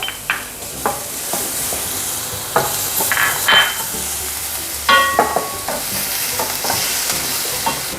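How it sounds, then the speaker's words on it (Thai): Steady sizzling of garlic frying in hot olive oil in a pan, with intermittent scraping and stirring clicks from a utensil against the pan. "พอกระทะเริ่มร้อนนะครับ ก็ใส่กระเทียมลงไปได้เลยนะครับ"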